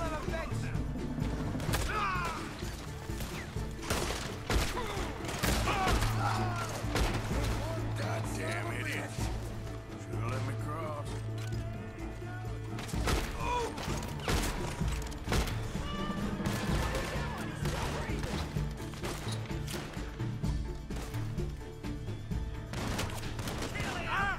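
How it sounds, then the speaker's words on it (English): Gunfire in a Western-style video game aimed at the player, repeated sharp shots amid dense game sound and music, loud and busy, with someone talking over it. "Who the fuck is shooting at me?"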